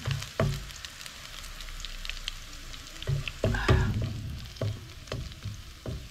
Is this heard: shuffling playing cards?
no